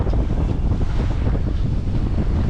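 A strong gust of wind buffets a 16-foot trailer sailer heading upriver into the wind and current, a loud, rough, continuous roar of wind rushing over the microphone with no talking.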